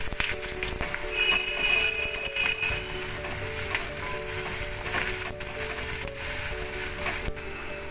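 Chopped onion frying in hot oil alongside crushed black cardamom and whole peppercorns, a steady bright sizzle with occasional stirring scrapes, close and continuous.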